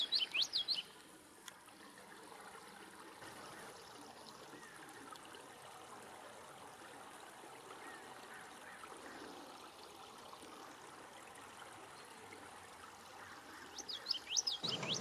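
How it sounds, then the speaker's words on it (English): An American bushtit on a golf course, giving brief high chirps at the start and again near the end, over a continuous trickling stream of water. "He eats insects. That's what he's doing here as he chirps away."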